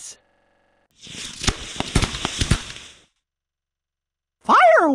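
Fireworks in the Disney Learning Phonics Quest video game: a burst of sharp crackling bangs and whooshes lasting about two seconds, fairly loud, followed by a bright rising game chime.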